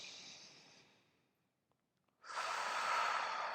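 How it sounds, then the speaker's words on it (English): A person breathes deeply at close range: a long exhale fades to silence, then a strong, sustained inhale rushes in after a brief pause. "take the biggest, deepest breath you can"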